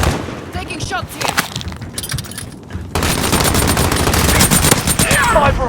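Gunfire in a battle royale video game, with rapid bursts of shots and impacts mixed with game effects, growing into dense continuous firing in the second half.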